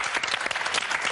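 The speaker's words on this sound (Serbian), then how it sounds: "Hoćemo aplauz, devojački," A studio audience on a Serbian TV entertainment show claps in steady, dense applause throughout, loud and close, with no voices heard over it.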